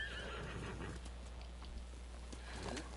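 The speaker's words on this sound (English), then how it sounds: "Summon horse." A horse in the Ghost of Tsushima video game neighs and whinnies as it arrives, with clip-clop hoofbeats, fairly quiet and close over a low steady background hum.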